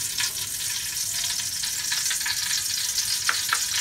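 Ghee heating in a pan for frying cashews and raisins for carrot halwa, giving a steady, soft, close sizzle with occasional brighter crackles.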